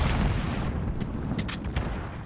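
Grenade explosion in a competitive team shooter match, a heavy rumbling blast filling the clip with crackling debris bursts afterward, no talk.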